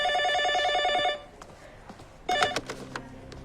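A telephone bell rings in a rapid trilling burst, then stops; after a short pause, clattering handling noises and brief tones follow, close and fairly loud.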